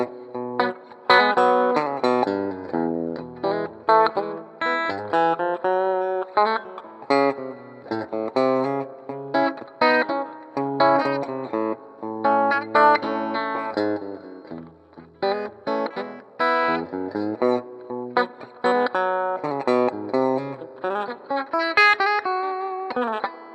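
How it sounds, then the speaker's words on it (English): Electric guitar through a Lemtone AB763 preamp with reverb, playing clean, sustained chords and single-note lines with a lush reverberant tail, close and alone with no talking. "This is the Lemtone with reverb."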